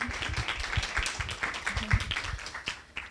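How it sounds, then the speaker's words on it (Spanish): Audience at a conference on water resources and watershed management applauds the speakers, a steady patter of hand claps throughout at moderate distance. "un aplauso les pido para nuestros expositores"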